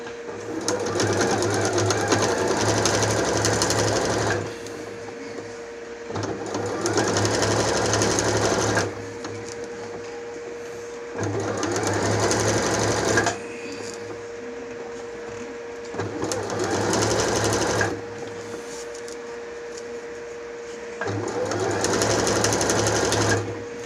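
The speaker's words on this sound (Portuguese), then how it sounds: "A peça para fazer o presponto do zíper. Eu vou fazer aqui uma costura bem fininha." Sewing machine topstitching a fine seam on a zipper panel for a makeup case, running in five steady bursts of whirring stitches separated by short pauses of fabric handling.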